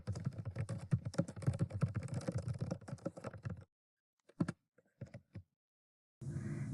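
Typing notes on a computer keyboard: a quick, steady run of close key clicks for a few seconds, then a pause and a few scattered keystrokes, alone with no talk.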